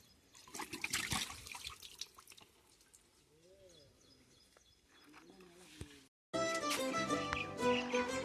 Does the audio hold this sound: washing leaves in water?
yes